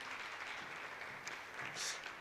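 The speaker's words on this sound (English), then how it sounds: "Big applause for Ana." An audience on a conference main stage applauds a panel speaker with a steady, fairly soft wash of clapping that continues throughout.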